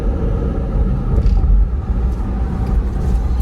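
A car engine warms up and begins driving, giving a steady low rumble that swells slightly now and then and carries on at a fairly loud, constant level with no talk.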